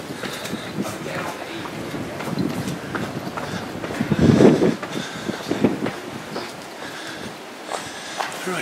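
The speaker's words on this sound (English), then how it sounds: "this is our next train now" Three-car passenger train rolling into a UK railway station platform, a rumbling approach with clattering wheels and wind noise, swelling loudest midway before settling, heard close by without speech.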